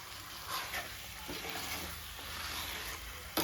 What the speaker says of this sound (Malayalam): ചേർത്ത് നമ്മൾ ചിക്കനും അതിൻ്റെ കൂട്ടത്തിൽ ഒന്ന് ഇളക്കി പിടിപ്പിക്കാം.